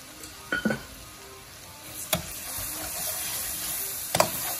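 Lobster stir-fried in a pan with garlic butter gives a soft, steady sizzle, broken by a few sharp clacks and scrapes of utensils against the pan, with faint water noise in the background.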